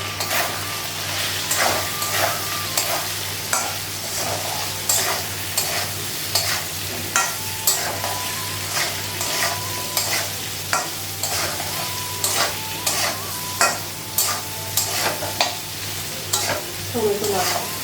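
Onion fries in hot oil with a steady sizzle, broken by regular scraping strokes of a spoon stirring the pan.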